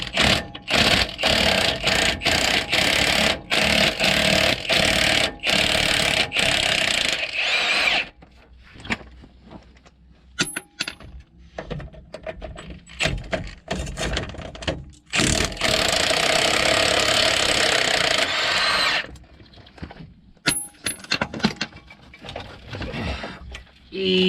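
An impact gun removing wheel hub bolts on a Dodge RAM 3500, with loud rattling bursts of hammering whir separated by short pauses and clanks, repeating several times close up, with occasional talk.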